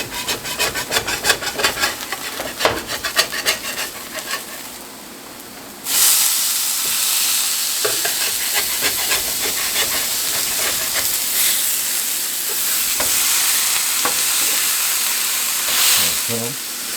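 Plant-based Impossible Whopper patties sizzle on a hot griddle, with scraping and rubbing as a spatula flips them, then a loud, steady hiss holds through the rest.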